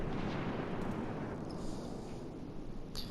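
Main guns of the cruiser USS New Orleans firing in a naval video game: a deep, rolling boom that fades into a long, faint rumble, with a small crack near the end.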